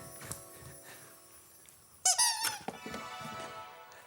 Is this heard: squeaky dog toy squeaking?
yes